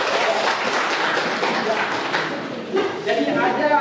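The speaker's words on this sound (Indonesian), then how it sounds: "Tepuk tangan untuk." Classroom applause from students during a lesson, a moderately loud stretch of clapping that thins and swells, with voices chattering underneath.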